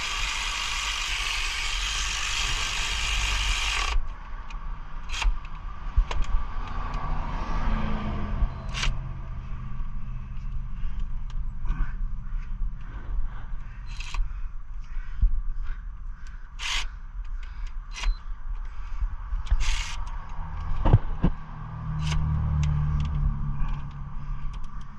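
Ratchet tightening 12mm bolts on an AC compressor during replacement on a 2002-2008 Pontiac Vibe, heard as irregular short clicks and creaks in a quiet garage, with no talking.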